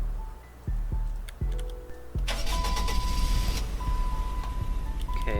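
A car in the Roblox video game, fitted with quad exhausts, quad mufflers and a turbocharger, cranks with several short starter bursts and then catches, settling into a steady, fairly loud idle.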